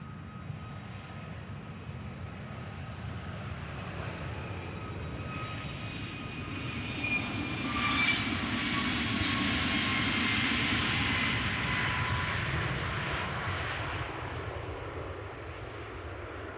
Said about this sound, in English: And this is a TUI MAX 8. We'll be going to San Vicente.